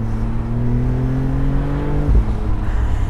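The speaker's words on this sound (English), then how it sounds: "You have so many different noises with the turbocharger. You have like a whiplash every single time you let off on the gas after accelerating." A Maserati MC20 Cielo supercar engine drones loud and steady from inside the car, its pitch climbing gradually under acceleration before a sudden drop and a brief thump as the throttle is released, with turbocharger whirs. No talking.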